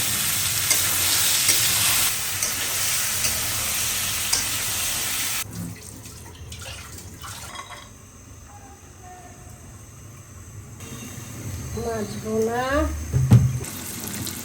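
A pan of fish roe sizzles steadily as it fries on a stove at close range, then drops away into quieter kitchen background with a few faint clinks and a brief voice near the end.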